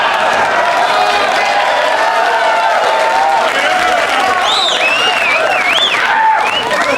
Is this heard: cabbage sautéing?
no